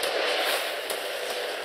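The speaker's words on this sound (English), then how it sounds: "It's the 4th of July, so let's show them some fireworks." Fireworks crackle and boom in a film trailer for Independence Day Resurgence, a dense, loud wash of bursts with a few sharper cracks standing out through the roar.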